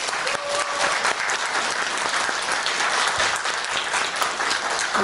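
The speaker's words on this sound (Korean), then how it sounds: "긴 시간 좋은 강의 해주신 배 교수님께 다시 한번 큰 박수" Lecture audience in a Sokcho hall gives a professor sustained, dense applause after a talk on living with people with mental illness, steady and full throughout with no voices breaking through.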